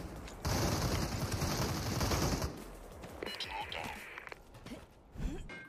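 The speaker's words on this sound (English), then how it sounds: "He's just shooting mags and mags at me." Sustained bursts of automatic gunfire crackle continuously in the battle royale game Super People, loud and dense for several seconds, then thin out into scattered shots and movement noise.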